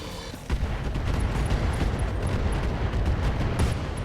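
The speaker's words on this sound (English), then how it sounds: "Firing everything I've got." Mech in RogueTech, the BattleTech mod, firing all of its weapons at once: a heavy, sustained roar of booming weapon fire. It starts abruptly after a brief quiet moment and rumbles on, dense and loud, with no voices.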